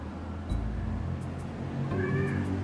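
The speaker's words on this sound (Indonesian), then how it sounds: "Fer, ini namanya kucing Cina" A cat meows close by, with a short cry near the start and a longer, clearer meow toward the end, set against a low background rumble.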